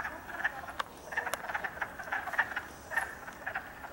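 Wood frogs croak in spring woodland, a chorus of short, duck-like clucks repeating irregularly at moderate distance, fairly faint with no voices over them.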